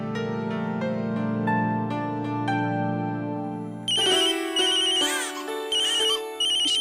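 An unanswered outgoing call rings on a mobile phone. A sustained electronic ringtone melody gives way to brighter, chirpier repeating chimes, loud and close, with no voices.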